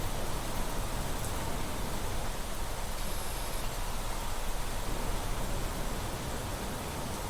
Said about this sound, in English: I'm pretty sure this isn't acid rain.